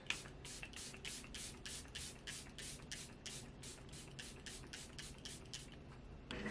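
Charlotte Tilbury Airbrush Flawless setting spray misted onto a face in about seventeen quick, close pumps, each a short hissing burst in steady rhythm, with no talking.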